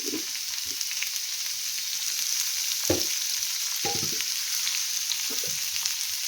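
Onions sizzle in a pan with a little turmeric, a steady bright hiss with intermittent soft stirring scrapes and bumps at close range, with no talking.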